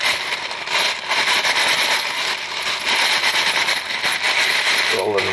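Brass cartridge cases roll and rattle together in a lanolin and alcohol mix, a dense continuous metallic jingle and clatter up close.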